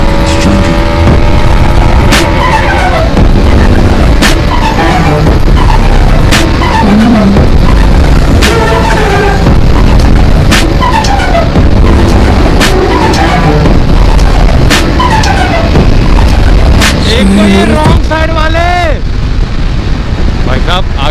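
A Bajaj Dominar 400 motorcycle roars at high speed on a road, its engine loud and constant beneath heavy wind rush, with rising and falling rev tones throughout.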